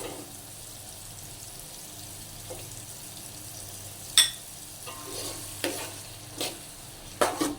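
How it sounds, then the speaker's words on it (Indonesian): Onions sauté in a pan, a low steady sizzle running throughout with occasional sharp scrapes and clinks of a utensil stirring, fairly quiet and close, no one talking. "yang pertama kita tumis bawang bombaynya dulu"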